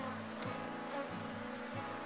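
Honeybees drone in a dense, steady buzz while a beehive is split into a new box, with agitated forager bees mixing with the guards. The swarm sounds close and continuous, with no talking.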